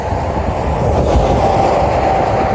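A GO commuter train in the Toronto area rumbles past close by and loud, with a steady roar of wheels on rails and a faint high metallic whine throughout.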